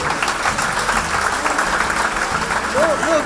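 Applause from an audience at a philosophy lecture, a broad clapping hiss running throughout with voices talking over it near the end.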